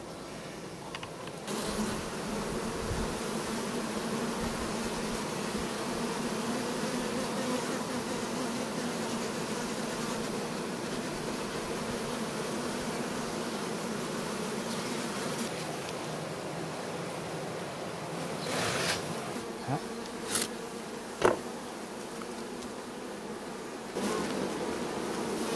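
Honeybees buzz continuously around a hive during pollen collection, a dense steady hum close by with a few louder passes near the end.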